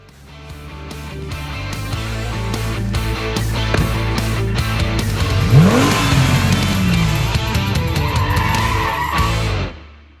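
A Hyundai N performance race car drives on a track: loud engine revving, swelling acceleration and tire squeal build over several seconds before the sound cuts off abruptly.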